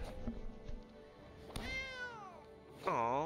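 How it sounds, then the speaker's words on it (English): Two short meows in a row, a rising-and-falling cry followed by a louder, brighter one, against busy game music and effects in Magic: The Gathering Arena. "Aw, kitty cat."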